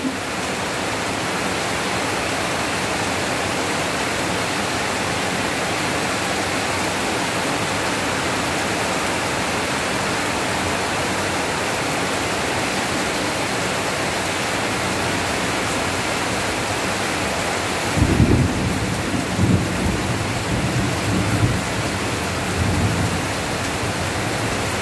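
Heavy rain pours in a constant loud roar, joined late by a low rumble of thunder that swells and fades.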